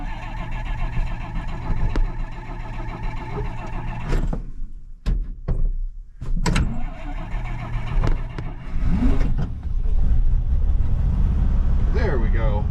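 Engine of a 1941 Plymouth Special Deluxe that has been sitting, cranking and then catching in the cold, running roughly and revving near, with a person speaking during the attempts.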